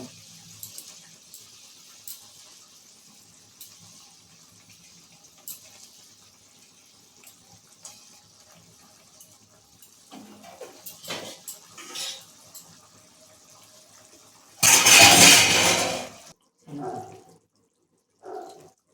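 Water from a bowl poured into a pan for a Bengali parshe fish curry in mustard-poppy sauce, a loud splashing rush for about two seconds after long quiet kitchen rustling.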